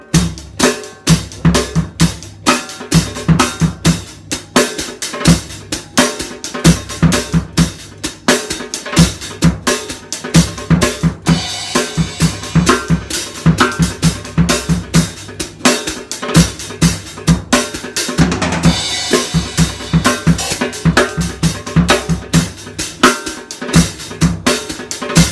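A drum set plays a groove with 3/4 measures broken into 6/8 over a 4/4 feel, crisp kick, snare and cymbal hits in a steady repeating pattern, loud and close, with no talking.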